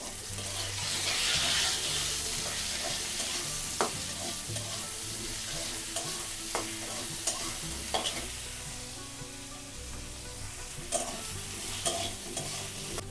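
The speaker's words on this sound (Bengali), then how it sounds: "প্রথমে হচ্ছে বেগুনটাকে আমরা লবণ দিয়ে ভেজে নেব" Eggplant pieces frying with salt in hot oil in a pan, a steady close sizzle with periodic scrapes and clacks of a spatula stirring, no one speaking.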